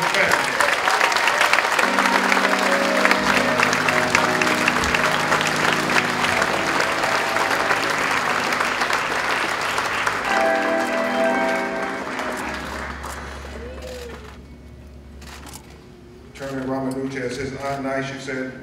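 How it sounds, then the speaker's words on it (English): Loud, sustained audience applause fills a funeral service for the Daunte Wright family, with organ-like tones and voices mixed in, thinning out near the end before a final swell. "You all give a big round of applause for this beautiful American family."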